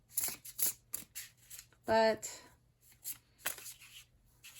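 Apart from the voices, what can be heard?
shuffling a Baroque tarot card deck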